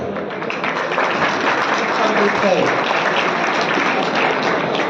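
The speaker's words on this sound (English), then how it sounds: "they need a round of applause from all of us." An audience at a college engineering club inauguration claps steadily and loudly throughout, a dense, sustained round of applause with no pauses.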